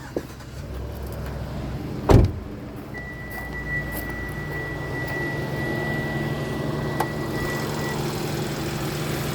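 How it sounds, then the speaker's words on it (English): A 2011 Hyundai Sonata engine idles steadily with the hood being opened, a low continuous hum with a sharp clunk early on and a faint tonal whine in the middle. "So leave her running and pop the hood"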